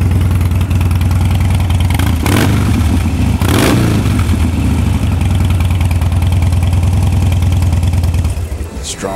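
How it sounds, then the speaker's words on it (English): A Harley-Davidson Dyna Street Bob FXDB motorcycle with low mileage idles loudly and steadily up close, its deep engine rumble continuous throughout, with a couple of brief louder swells partway through. "Strong sounding engine."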